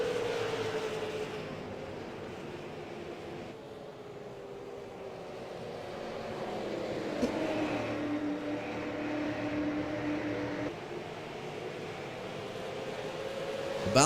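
Super Late Model race cars lap a Wisconsin oval in a steady, continuous engine drone that rises and falls as the pack passes, with no talk over it.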